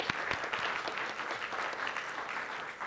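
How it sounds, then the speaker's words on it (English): Audience applause at a forest-financing conference session, a steady patter of clapping from a crowd, moderately distant and alone without speech. "Please give a round of applause once again."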